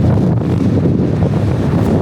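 Strong, roaring wind on the climb to Hoverla mountain in Ukraine buffets the microphone in a continuous low rumble with no letup.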